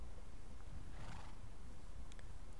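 A horse whinnies in a video game, a single neigh rising near the middle over steady ambient game background, with faint hoof-like clip-clop traces.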